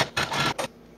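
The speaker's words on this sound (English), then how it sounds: "So there's our card slots, just sewing the top edge shut." A sewing machine stitches the top edge of a fabric wallet with card slots, three quick mechanical whirring bursts close by, the last one short.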